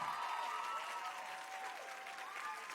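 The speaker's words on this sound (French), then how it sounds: "j'aimerais ça qu'on donne une très bonne main d'applaudissement à Laurence qui a été notre maître de cérémonie tout au long de la soirée." A school show audience applauds Laurence, the master of ceremonies, with a dense, continuous wash of clapping heard from some distance, fairly soft and steady and with no speech over it.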